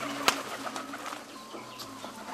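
Pigeons kept in a neighbour's yard give soft, low cooing with a brief flutter of wings near the start, moderately close over a faint outdoor background.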